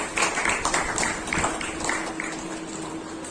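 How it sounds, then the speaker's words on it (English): An audience claps at a school Independence Day celebration, giving fairly faint, steady applause through the whole stretch over a low background hum. "A huge round of applause. Please don't stop your clapping."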